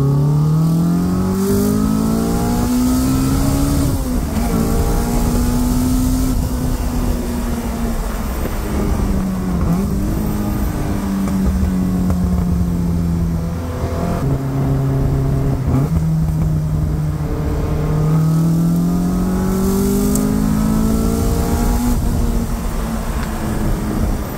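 A Caterham 485 S sports car engine revs loudly and repeatedly, its pitch climbing and dropping as it accelerates, close and continuous with no talking.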